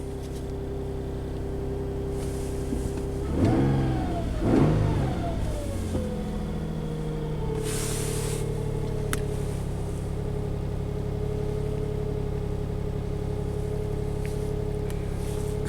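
A Nissan Pathfinder SUV engine with a hard-start and overheating problem turns over and revs up with a couple of throaty bursts, then settles into a steady, loud idle hum.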